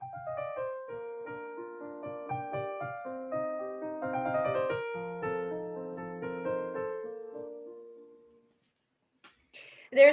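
A piano plays a legato Mozart phrase as a single connected line, moderately soft, with notes overlapping smoothly before fading into silence and a brief closing noise.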